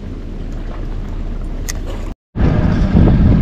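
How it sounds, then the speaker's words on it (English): Rain sweeping onto a lake during a fishing trip, with a thunder rumble: a steady wash of noise, a short cut to silence, then a louder, deeper rolling surge. "Uh-oh, here comes the rain."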